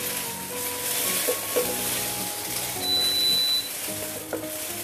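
Dish stirred in a pan of hot cooking oil, with a steady close sizzle and a few soft scrapes from the stirring, no one talking.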